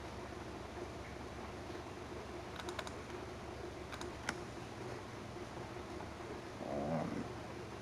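Soft, sparse keyboard typing: a few quick key taps in small clusters over a low steady hum, with a brief muffled rustle near the end.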